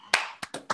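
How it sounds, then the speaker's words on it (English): A handful of separate claps at an online talk, four sharp distinct bursts spaced irregularly and heard close and fairly quiet, like a few unmuted participants applauding. "let's briefly unmute ourselves and applaud for Kelin."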